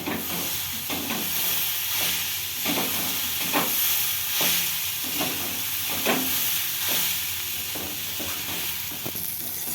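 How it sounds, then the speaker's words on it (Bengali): Mixed vegetables and potatoes fry with turmeric in a pan for vegetable chops, giving a soft steady sizzle with intermittent stirring scrapes, close by and without speech. "আমার সবজিগুলো আলুর সঙ্গে খুব ভালোভাবে ভাজা হয়ে গেছে"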